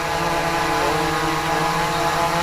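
A DJI Inspire drone descends to land, its rotors giving a loud, steady, close buzzing whine that holds even throughout with no talk.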